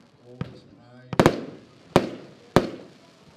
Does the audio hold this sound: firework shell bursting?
yes